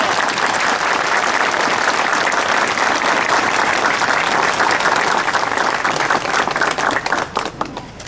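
A big crowd at an outdoor flag rally in Şile, Turkey claps loudly and steadily for several seconds, the dense applause thinning slightly toward the end.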